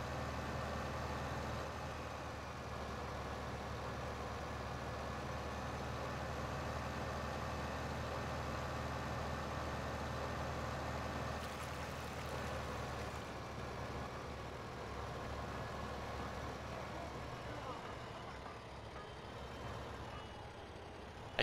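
Steady tractor engine drone from Farming Simulator 15, a continuous low hum idling on a game farm with no breaks, holding an even level throughout.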